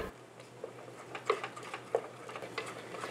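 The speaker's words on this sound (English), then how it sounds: "Now again I am going to cook on medium flame. Just keep stirring like this." A spoon scrapes and stirs gond halwa in a pan over a medium flame. Soft, steady scraping comes with a few light clinks against the pan, quiet and close, with no talk.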